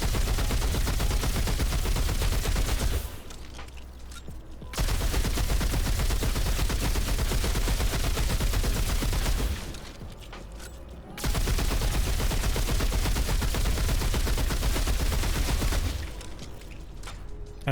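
Sustained rapid gunfire from corrosive rounds in the game Remnant 2, loud, dense bursts lasting several seconds, broken by short gaps of quieter background.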